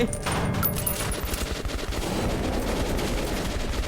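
Dense, continuous automatic gunfire from the video game Metro 2033 Redux, a close and loud fusillade of overlapping shots running steadily throughout.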